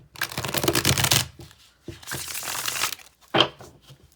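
Two quick riffling bursts of tarot cards being shuffled, crisp and close, followed by a sharp snap of the deck squared together.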